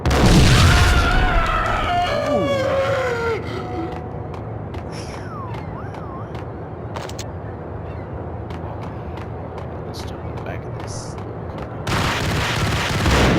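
Gunfire in the shooter game Max Payne: a loud burst of booming blasts at the start, then scattered sharp cracks and impacts, with someone talking briefly over the action.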